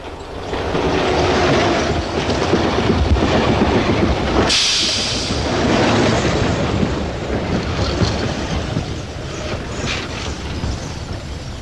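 A train rumbles past on the rails with a loud, sustained roar and rhythmic clatter, swelling and easing as it goes by.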